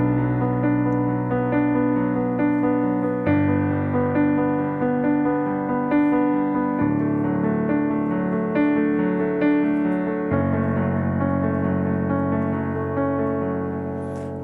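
Solo piano plays an arpeggiated accompaniment to a song, with the left hand an octave lower, rolling chord tones sustained in a steady flowing rhythm at moderate volume and changing chords every few seconds, no talking.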